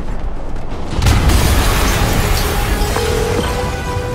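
A deep, loud explosion bursts in Marvel's Spider-Man on PS4, a sudden boom that swells and then rumbles on with debris and mechanical noise trailing after it.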